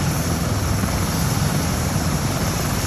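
Helicopter at Eisenhower Park, its rotor and engine producing a loud, close, continuous roar with a rapid low chopping beat, steady and unbroken with no talk over it.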